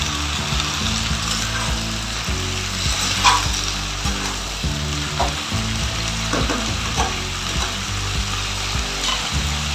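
Slit green chillies and winter vegetables with beans and green tomatoes sizzle steadily in a hot pan, with scraping stirs cutting through the continuous loud frying noise.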